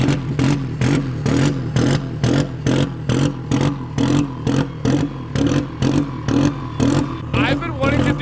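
Modified AWD Honda Civic engine on a standalone ECU running rotational idle, a loud choppy rhythmic pulsing that cuts in and out about twice a second, steady near the car, with a person talking over it.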